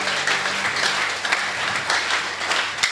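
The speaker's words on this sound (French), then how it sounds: "Acclamons le Seigneur Jésus." Sustained applause from a church congregation acclaiming Jesus, a steady wash of many hands clapping at close range with little talk over it.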